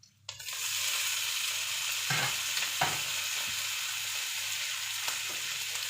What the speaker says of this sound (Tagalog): Brown na yung ating bawang, nalagyan natin ang ating kamatis